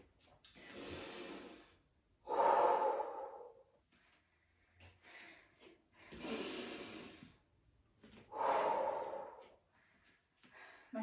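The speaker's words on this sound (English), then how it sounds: "Breathe in, breathe out." Slow, deliberate breaths during a heavy lifting workout, several long loud inhales and exhales in steady alternation, close and heavy with faint breathy sounds between.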